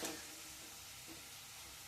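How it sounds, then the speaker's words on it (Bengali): Spice paste frying in oil in a pan, a faint, even sizzle with a soft stir near the start, quiet and with no voices. "এই দেখুন বন্ধুরা, মশলাটা খুব সুন্দর করে কষিয়ে নিয়েছি"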